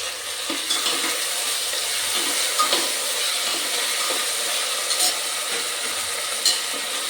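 Tomatoes sizzle and are stirred in a hot pan while cooking aloo matar pulao, a steady frying hiss with soft scraping strokes of the spoon across the pan.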